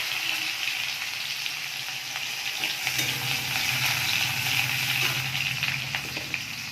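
Onion frying in hot oil with dried chilli in a kadai, a continuous close sizzle with scattered stirring clicks, growing a little fuller midway, no talking.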